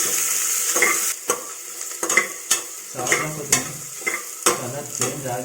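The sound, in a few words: onions frying in pan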